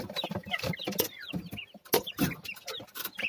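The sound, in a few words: chicks clucking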